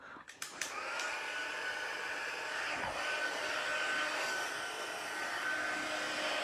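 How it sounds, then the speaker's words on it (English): A heat embossing tool blows hot air in a steady, loud whirring hum that runs continuously after a few brief clicks at the start. "I'm going to heat emboss"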